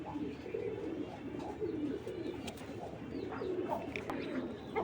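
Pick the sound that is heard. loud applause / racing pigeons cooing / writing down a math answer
racing pigeons cooing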